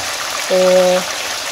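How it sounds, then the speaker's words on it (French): Fish frying in a pan over medium heat gives a steady, even sizzling hiss throughout, broken midway by a short, clear tonal sound lasting about half a second. "je vais juste laisser frire comme ça"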